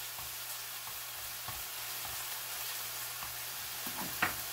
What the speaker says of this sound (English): So now I'm going to add a good heaping teaspoon of minced garlic. Let that cook for a little bit and get nice and fragrant.